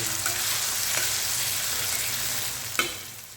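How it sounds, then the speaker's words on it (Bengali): A ladle stirs salted tomatoes and spices in a pan over medium heat for a moong dal, under a constant near sizzle with a few soft scrapes and one sharp knock near the end. "এরপর আমি আবারও হাতা দিয়ে মিক্স করে দিচ্ছি"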